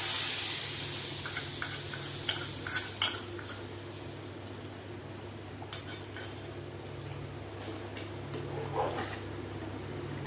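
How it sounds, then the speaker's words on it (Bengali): Spices sizzle softly and steadily in hot oil in a pan for tempering, while a metal utensil stirs and clinks against it now and then. "এইবারে এটাকে আমি তড়কা লাগাবো"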